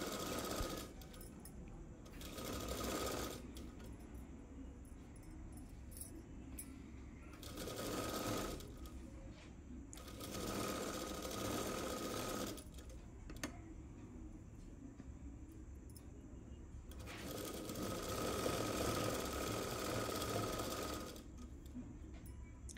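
A sewing machine double-stitching an umbrella dress runs in several bursts of rapid, even mechanical whirring, separated by quieter pauses; no one talks.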